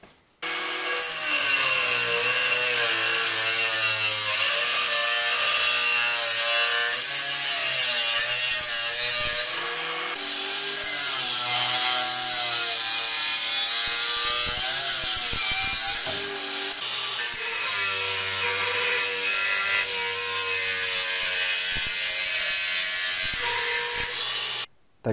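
Cordless angle grinders fitted with Norton Quantum cutting discs, Makita, Parkside Performance and Parkside models on full batteries, whine loudly and continuously through a cutting test, their pitch dipping under load and briefly pausing between cuts.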